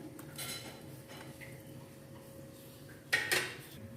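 A sharp metallic clank of a kadhai wok set down on a stove before oil is added for pulao rings out near the end, after quiet kitchen background with faint clinks.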